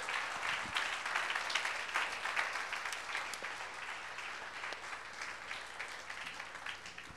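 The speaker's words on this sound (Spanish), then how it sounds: "Dale un fuerte aplauso a Jesús." A church congregation gives sustained applause during a sermon. The clapping is steady and somewhat distant, fills the room and fades slightly over several seconds, with no one speaking.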